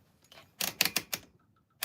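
Several sharp mechanical clacks of a typewriter being handled and struck, loud and close in a quick uneven burst, then quiet before one more clack.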